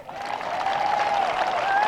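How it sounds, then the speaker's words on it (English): An honor-flight crowd applauds a U.S. Navy Vietnam veteran, a brief, steady burst of many hands clapping, moderately loud and even, with a faint tonal whine running beneath it. "Give him a round of applause."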